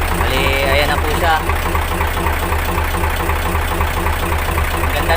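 A Fuso dump truck's 8DC10 diesel engine idles up close with a steady, low, even rumble and a faint ticking knock, while a voice talks briefly over it near the start.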